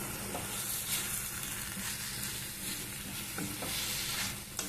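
Vegetable pieces frying in a pan while being stirred, a loud continuous sizzle with scraping stirs and occasional clinks, close up and steady throughout.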